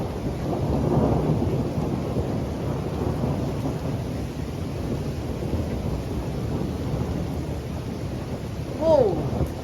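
A thunderstorm rolls on with long, deep rumbling thunder over steady rain, the low roar swelling and fading continuously, with a brief sharper noise near the end.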